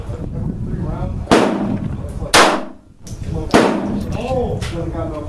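Bersa Thunder Plus .380 semi-automatic pistol made in Argentina being test fired outdoors, three loud sharp gunshots spaced about a second apart, each with a short ringing tail, while people talk between shots.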